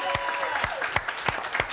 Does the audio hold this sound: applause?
yes